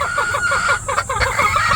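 Several laying hens and pullets in a chicken coop cluck close by in quick, overlapping bursts, a busy continuous chatter with no voices.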